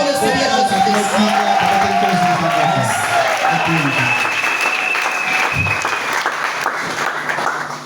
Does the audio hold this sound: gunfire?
no